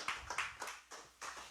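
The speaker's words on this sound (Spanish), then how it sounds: "Dale palmas a Cristo si puedes" Church congregation clapping their hands for Christ during a sermon, a run of about six fairly quick, evenly spaced claps, moderately loud and slightly roomy, with no talking over them.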